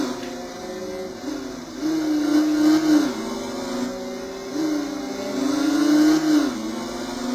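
A racing motorcycle engine in the game Riding Spirits 2 revs loudly through rising and falling pitch sweeps, climbing through gears twice with a steady whine underneath.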